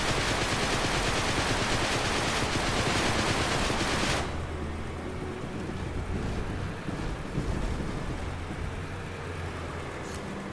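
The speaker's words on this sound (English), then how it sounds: "This is the barrage tank." A barrage tank firing in a sci-fi strategy video game: a dense, roaring burst of fire for about four seconds, then a lower rumbling tail with softer crackles.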